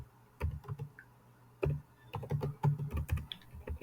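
A computer keyboard clacking as HTML code is typed, with close, crisp keystrokes coming in quick uneven bursts separated by short pauses.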